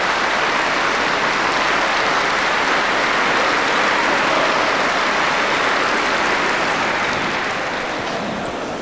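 A large crowd at the Expo 98 ceremony gives a long, dense final round of applause after a speech, a loud continuous wash of clapping that holds steady and tapers slightly at the end.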